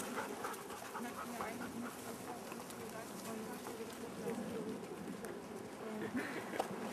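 A small dog pants steadily outdoors on heathland, a soft continuous breathy rhythm mixed with bird calls and cooing doves, with faint voices in the background.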